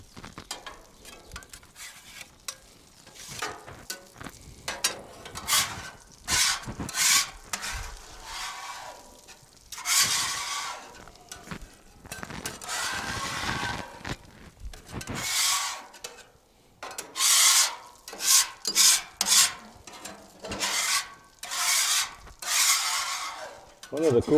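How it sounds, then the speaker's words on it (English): A metal scraper pushes leftover taco meat across a Blackstone griddle, giving repeated rough scraping strokes in irregular bursts with faint sizzling, close and fairly loud, with occasional speech. "Scrape off of here, get this extra meat off."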